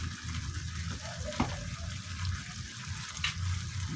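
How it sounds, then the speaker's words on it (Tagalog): Hot water from a thermos poured into a pan of cooked large sardines to make a broth, a steady close trickle and splash running continuously with no talk. "Dito tayo maglagay ng tubig pang sabaw sa ating niluto"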